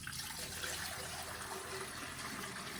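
Water pours steadily into a cup from a Keurig K-Elite single-serve coffee maker during an 8-ounce cleaning brew, a continuous soft gushing fill heard up close with no talking.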